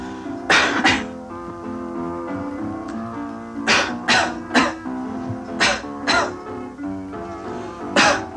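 Several harsh, bursty coughs, some in quick pairs, spaced over a steady musical background; fairly loud and close.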